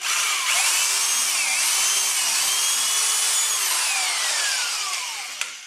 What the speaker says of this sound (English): I run a 5/16 drill bit through it